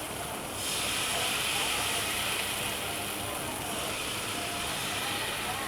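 Steady steam hiss rising from a pot where pitha rice cakes made with rice flour are cooking, a continuous broadband rush that swells after the first half-second and stays constant.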